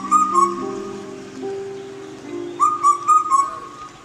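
Bird calls tied to the Kafal Pako folktale of Uttarakhand: clear whistled two-note phrases, repeated several times near and loud, with soft sustained low tones running beneath and a pause in the middle.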